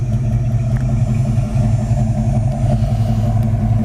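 A white 1965 Ford Mustang GT engine runs steadily at idle, a loud close low rumble with a firm even burble, occasional small fluctuations, and no voices over it.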